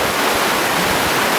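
River water rushing at a backcountry crossing on the South Island's West Coast, a loud steady broadband roar of flowing current close by, with no voices.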